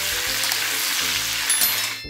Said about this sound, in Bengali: চিকেন ভাজা হয়ে গেছে